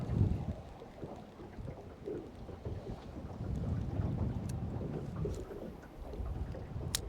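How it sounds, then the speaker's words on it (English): Wind blows over a dam lake as a steady low rumbling roar of buffeting gusts across an open microphone, with a few faint clicks and nobody speaking. "The wind is blowing over the dam, so it's blowing down lake."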